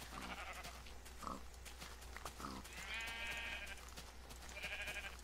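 A small flock of sheep in Minecraft bleats repeatedly, with short baas and longer quavering cries overlapping at close, even volume above a steady low drone and no speech.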